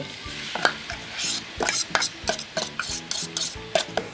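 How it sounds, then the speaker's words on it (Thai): Fresh blended spice paste frying in oil for Thai chicken biryani, with steady sizzling and repeated scraping stirs of a spoon against the pan, close and fairly loud, no voices. "ผัดส่วนผสมที่เป็นเครื่องสดที่เราปั่นไว้นะคะ ให้สุกเข้ากันจะดีค่ะ"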